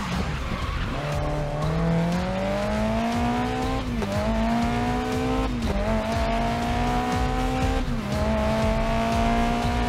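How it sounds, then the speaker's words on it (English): A race car in Grid Legends slides around a corner on the handbrake, its engine droning loudly and rising in pitch while the tires squeal continuously through the slide, close and steady throughout. "try a corner with a touch of handbrake"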